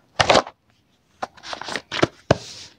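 Paper envelopes for a monthly household budget being handled, with a short burst of rustling, a pause, then several quick crisp shuffles and slides of paper close by.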